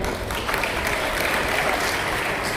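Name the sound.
audience applause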